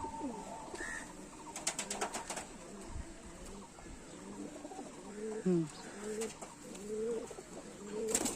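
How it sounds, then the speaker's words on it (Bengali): Pigeons coo softly in a loft of Chennai-type birds, including an old five-year-old bird, with repeated low warbling coos in the middle and toward the end, some wing flutters and faint chirps, and people talking quietly alongside. "এই পায়রাটার 5 বছর বয়স, পুরনো পায়রা"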